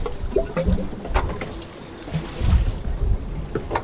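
A sailboat glides gently through calm water near Isla del Rey, with soft lapping, splashing and wind noise rustling steadily throughout at moderate level.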